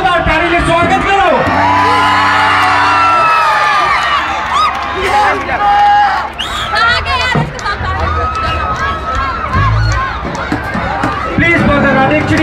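A live rock concert crowd whoops and cheers, the noise rising and falling beneath a voice speaking over the sound system and some musical tones.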